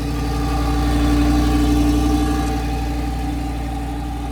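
A powerful car engine rumbles steadily nearby with a deep, even hum, rising slightly then settling, with no one speaking.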